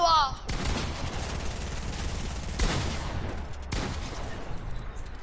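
Gunfire in Fortnite, a few loud bursts of shots with sharp onsets spread across the moment, close and prominent, while a player talks over it.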